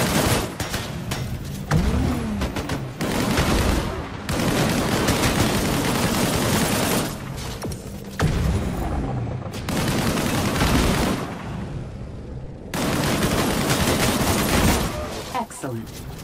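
Weapon fire from the primary weapon in the video game Disintegration, sustained bursts of loud gunfire in several long stretches with brief pauses between, dense and close, with game speech at times.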